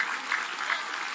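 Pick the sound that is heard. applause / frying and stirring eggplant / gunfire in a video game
applause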